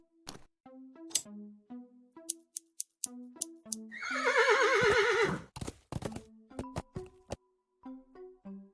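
A horse in the point-and-click adventure game Willy Morgan and the Curse of Bone Town gives one loud, quavering neigh in the middle, framed by clopping hooves and light ticking game effects. No voices are heard.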